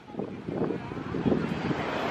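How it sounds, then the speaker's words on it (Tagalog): Blustery wind buffets the microphone at a beach, a steady broadband rush with gusts, with faint voices mixed in underneath. "Ang mahangin dito."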